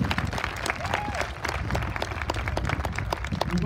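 An outdoor audience at a folk music performance in a harbourside park claps in a dense, sustained round of applause that holds steady throughout.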